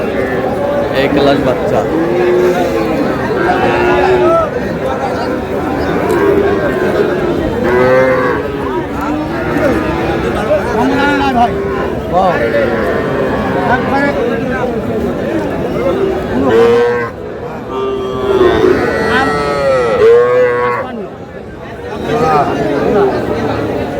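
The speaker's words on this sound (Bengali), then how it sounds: "ষাঁড় বাচ্চা, দুটাই ষাঁড় বাচ্চা।" Young bull calves mooing at a cattle market in Barishal, repeated bellows rising over a steady crowd murmur, with people talking and haggling nearby throughout.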